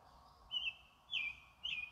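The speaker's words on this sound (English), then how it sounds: "I think that's a mockingbird, Miss Denny." Mockingbird singing outdoors, three short bright whistled chirps spaced about half a second apart over a quiet background.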